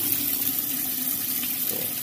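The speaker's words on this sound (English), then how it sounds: "Water coming in there." Water rushes steadily into a Whirlpool washing machine as it fills, a continuous hissing flow close by with no talking.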